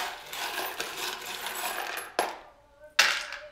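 Small metal charms poured out in two quick jingling bursts, a bright clatter that rings briefly and settles, heard close and clear with no talking.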